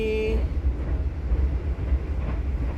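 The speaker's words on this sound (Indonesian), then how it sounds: "kereta api Mataram sudah berjalan di 107 km per jam ya" Mataram economy-class passenger train cruising at about 107 km/h between Purwosari and Lempuyangan, a steady loud low rumble of wheels and carriage throughout, with a brief tonal whine at the very start.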